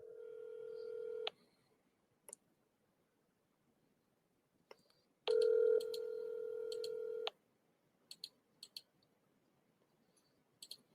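A phone line dials out with two long steady tones, then a rapid string of short keypad beeps and clicks, each separated by quiet gaps.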